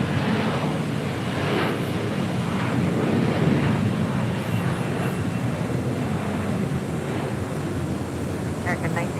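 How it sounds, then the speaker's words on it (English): A JetBlue Airbus A321 arriving at LAX gives a steady, loud jet roar mixed with wind buffeting, with a voice speaking over it. "That is JetBlue Airways Flight 323 coming in from JFK at this A321"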